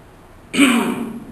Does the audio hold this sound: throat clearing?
yes